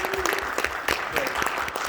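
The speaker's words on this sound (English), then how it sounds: "Let's hear a round of applause if it's been beneficial since." A room of business seminar attendees applauding a customer-service talk, dense continuous clapping that stays loud and close through the brief moment.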